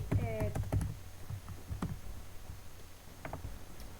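Someone types on a computer keyboard while playing MovieStarPlanet. A quick cluster of clicks comes first, then a few scattered taps over a low background hum.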